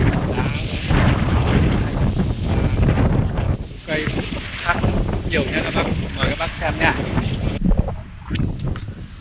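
Strong wind buffets the microphone on a mountainside among blooming peach trees, loud rumbling gusts that swell and drop, with someone talking over the roar.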